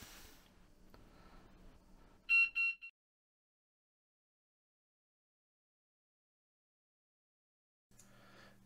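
A fishing bite alarm in a camper van storage cellar gives a short burst of three high electronic beeps near the middle, after low background rumble and before a long silence.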